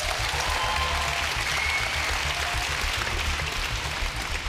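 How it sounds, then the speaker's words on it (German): Studio audience applauding as a vote during a boxing challenge show, a steady wash of clapping from seated spectators that holds evenly throughout, with a faint cheer rising briefly midway. "Applaus bitte"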